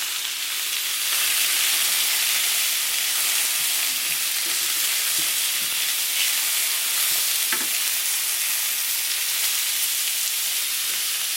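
Onions and garlic frying in a pan, a loud, dense, unbroken sizzle close up with a few faint clicks of a utensil turning them, and no speech.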